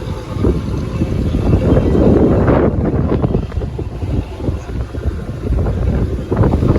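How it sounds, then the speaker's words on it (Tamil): A deep-sea fishing motor boat passes at sea near Pamban, its loud, continuous engine rumble and water rush heavily buffeted by wind noise on the microphone. "ஆழ்கடல் விசைப்படகு படகு வந்து இப்போ வந்து தென்கடல்லேருந்து வடகடல் நோக்கி போயிட்டுருக்கு"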